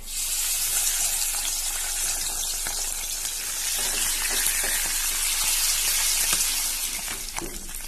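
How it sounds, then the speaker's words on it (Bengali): Fish frying in hot oil in a home kitchen, a steady dense sizzle running throughout with a few sharper pops and spatters and no talk. "তেলটা গরম হয়ে গেলে এর মধ্যে এই মাছগুলোকে ছেড়ে দেবো পুরো"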